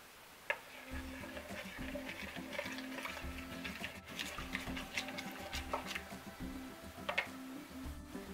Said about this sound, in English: Now you're going to mix it until it dissolves.